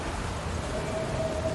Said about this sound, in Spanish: pronto se convirtió en una tormenta